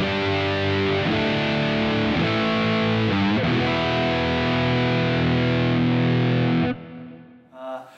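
A 2017 Gibson Les Paul Standard electric guitar on its neck pickup, played through a Yamaha THR amp, rings out loud distorted chords that sustain for several seconds before being cut off, with no talking.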